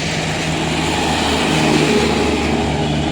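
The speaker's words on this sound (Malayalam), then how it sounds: "എസ്റ്റേറ്റിലെ ഒരു ട്രാക്ടർ വരുന്ന വരവുണ്ടോ ട്രാക്ടർ" A loud, steady tractor engine rumble fills the whole stretch, a heavy motor droning close by without letting up, on a hill estate road in Rajakumari, Idukki.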